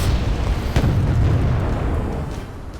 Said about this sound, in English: Again, another bombing run on my T-55s to finally get it off.